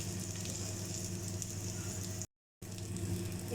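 Seekh kebabs fry in a pan, giving a steady, fairly soft sizzle with a brief silent gap partway through and no talking.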